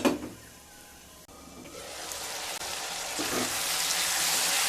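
Potato and okra fry in a pan with a soft sizzle. It starts faint after a brief knock, then swells into a steady, closer hiss of cooking.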